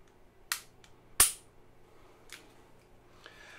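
Trigger reset clicks on a Canik TP9 Elite SC striker-fired pistol: two sharp, close metallic clicks about 0.7 s apart, then a fainter third click, with no talk over a quiet background.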